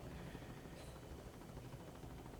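Helicopter noise recorded while leaning out of the aircraft, a steady rotor and engine roar with rushing wind, fairly faint and unbroken, with no one speaking.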